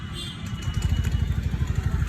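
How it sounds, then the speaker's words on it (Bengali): A used Yamaha Fascino 125cc scooter engine starts up and settles into a close, steady idle, its low rhythmic putter pulsing evenly after the first moments. "বাইকটা স্টার্ট করে দেখাচ্ছি।"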